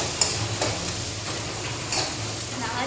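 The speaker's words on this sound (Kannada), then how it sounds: "ಚೆನ್ನಾಗಿ ಫ್ರೈ ಮಾಡಿ." Carrot and green chillies fry in a pan with a soft, even sizzle, punctuated by a few light ticks and scrapes of a spoon stirring close by.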